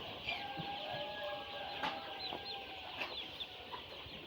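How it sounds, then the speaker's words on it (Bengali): Sonali super hybrid chickens on a poultry farm give scattered soft clucks and calls, with several birds overlapping at moderate distance under steady farm background noise. "এগুলো কিন্তু আমাদেরই সোনালী সুপার হাইব্রিড যে প্যারেন্টস ছিল সেই প্যারেন্টসেরই বাচ্চা।"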